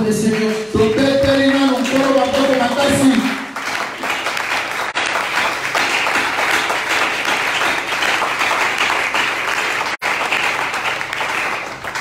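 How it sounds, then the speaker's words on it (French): A church congregation claps and cheers in praise, loud sustained applause filling the room, with a brief spoken phrase near the start before the clapping carries on alone. "Nous acclamons d'abord pour le Seigneur."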